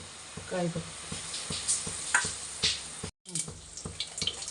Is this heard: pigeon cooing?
no